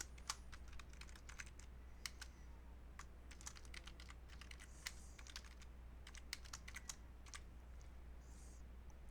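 Quiet, rapid clicks of a computer keyboard as a virtual machine name is typed, irregular keystrokes spread over several seconds against a faint steady hum.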